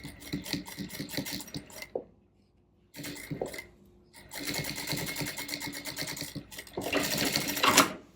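A sewing machine stitches a seam in rapid rhythmic bursts, pausing briefly twice before running again, close and moderately loud, with faint handling sounds in the gaps.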